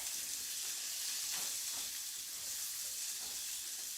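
Mahi mahi fillets sizzle steadily in a hot pan with butter, a continuous close frying hiss with faint crackles and no talking.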